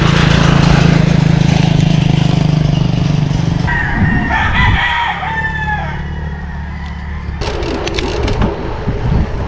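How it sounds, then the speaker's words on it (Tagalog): Chickens at a crowded poultry farm in Pampanga cluck and crow steadily throughout, with a rooster-like call in the middle and a low engine hum underneath, heard close and fairly loud. "so farm yan, farm ng manok. Grabe yung dami."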